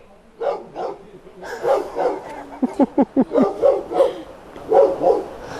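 A dog barks in a quick burst of short, sharp yaps in the middle of a domestic scene at a house gate, heard under and between people talking loudly nearby.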